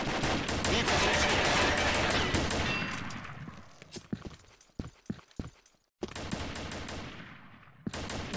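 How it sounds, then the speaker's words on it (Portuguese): Rapid automatic gunfire from a SCAR rifle in the online shooter Combat Arms, loud dense bursts that thin into scattered single shots, cut off by a brief silence and then resuming. "eu tomei tiro das costas, mano, de Scar"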